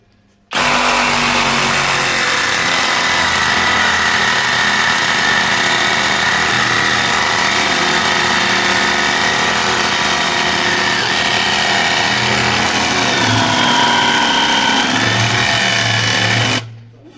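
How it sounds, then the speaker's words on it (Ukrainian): A LEADER Ultra BL20-22M cordless reciprocating saw fitted with a metal-cutting blade saws through hornbeam wood, a loud, steady buzzing drone running continuously for about sixteen seconds with no speech. "Беремо полотно по металу і пиляємо граб"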